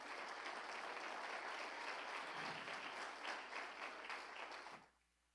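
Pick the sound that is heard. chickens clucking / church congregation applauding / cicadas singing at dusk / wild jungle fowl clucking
church congregation applauding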